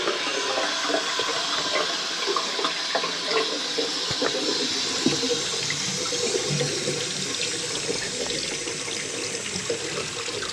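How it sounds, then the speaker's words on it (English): Water from a sink drains through the waste pipe into a Saniflo macerator, a steady close rushing and gurgling flow that stays constant throughout with no voices. "We'll take the plug out and we'll run a bit of water through the waste."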